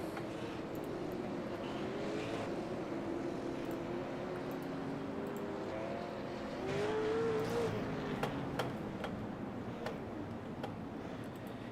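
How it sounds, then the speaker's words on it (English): Race car engines hum steadily in a sim racing game as the field rolls behind a Ford Mustang pace car, a sustained drone with one engine briefly rising in pitch, no voices. "So the field getting ready to go green flag racing."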